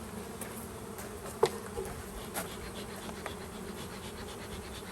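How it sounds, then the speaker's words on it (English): Honey bees from a package drone in a soft, steady buzz as they are shaken into a hive box, with a few faint knocks and bumps breaking through on a hot day. "So now I have to get all of these bees"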